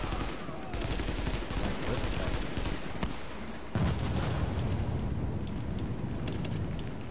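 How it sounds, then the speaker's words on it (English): AK rifle fired in The Division, rapid bursts of loud automatic gunfire with heavy report, continuing through most of the stretch. "the recoil on this AK is horrendous"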